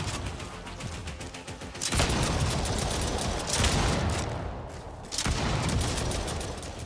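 Shotgun blasts at alien bugs in the game Exome, a few heavy booming shots spaced about every couple of seconds over dense, rattling combat noise, loud and close.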